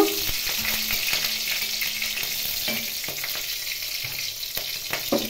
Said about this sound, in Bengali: তেল গরম হয়ে গেছে, এর মধ্যে 2টি কাঁচা লঙ্কা ফোড়ন দিলাম এবং কালো জিরে ফোড়ন দিলাম। এগুলি ভেজে নেব।